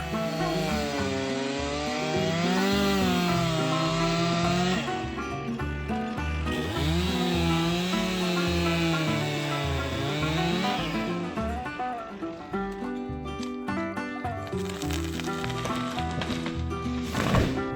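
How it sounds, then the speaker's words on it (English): A chainsaw makes a bore cut into a tree during stump work, its engine droning steadily with wavering pitch as it bogs and revs under load through the wood, loud and close, no voices. "An open face or a bore cut can be 70 degrees or more."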